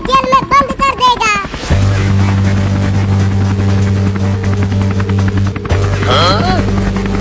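A cartoon helicopter engine drones loud and steady with a low rhythmic rotor hum, starting abruptly after a burst of squeaky cartoon voices and running to the end, with more character chatter over it.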